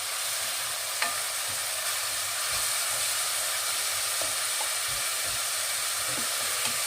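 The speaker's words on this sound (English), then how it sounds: "So we stir fry it until it goes clear." Onion is stir-fried in a pan for a pork and pineapple dish, with a soft, steady frying hiss and occasional light clicks of stirring. No voices are heard.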